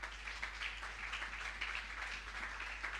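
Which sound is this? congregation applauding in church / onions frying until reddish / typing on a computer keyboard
congregation applauding in church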